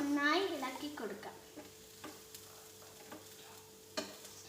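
A poha (aval) snack mix is stirred in a pan, with quiet, sparse spoon scrapes and soft taps spaced a second or so apart over faint background noise, after a brief whistling tone at the start.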